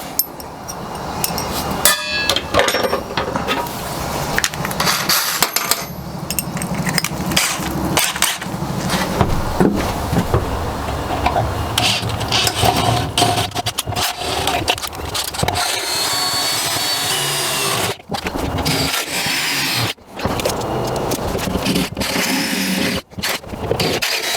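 Repeated bursts of drilling holes with a long drill bit into wood and metal of a 2006-2018 Mercedes Sprinter van, grinding and scraping with short pauses between holes, loud and close with tool clatter.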